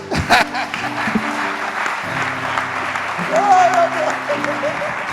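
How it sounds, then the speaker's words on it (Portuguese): A church congregation applauds in a continuous wash of clapping, while a voice and sustained musical tones run over and under it, everything fairly loud and close. "Dá um aplauso, Senhor Jesus."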